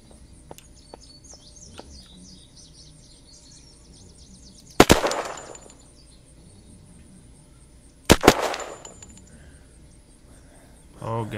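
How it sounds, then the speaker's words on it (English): Two sharp gunshots in the zombie survival video game Unturned, several seconds apart, each with a short ringing tail, over quiet ambience with bird chirps. "I'm shooting to lure them all to me"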